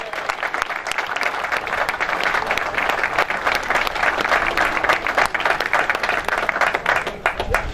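Crowd applause at the podium ceremony for the stage winner of the 2014 Olympia's Tour cycling race in Hoorn, steady dense clapping from many spectators sustained throughout, with faint voices mixed in.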